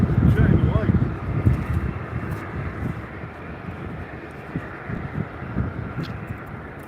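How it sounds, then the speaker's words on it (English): A Wheels Up plane comes in to land at Albany International Airport, its engine roar loudest at first, then fading into a steady rushing drone with wind buffeting the microphone. "Wheels up coming in for a landing right now."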